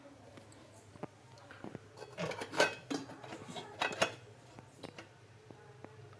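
Ridge gourd pachadi is mixed into a fried tempering in a pan, with soft, intermittent utensil scrapes and clinks and a couple of louder bursts of scraping.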